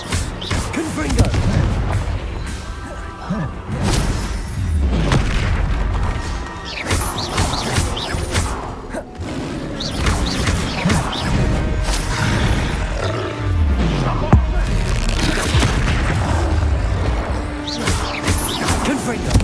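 Fiery Confringo blasting-curse explosions burst again and again during spell combat in Hogwarts Legacy, loud, close booms and roaring blasts crowding one another across the whole stretch, with voices mixed into the din.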